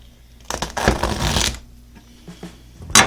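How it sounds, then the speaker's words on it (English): A knife cuts into a rotting, drying loofah gourd with a few close, crisp scraping and crunching bursts separated by quieter pauses, and one sharp burst at the end. "Let's cut in the rot a little and see how bad it is."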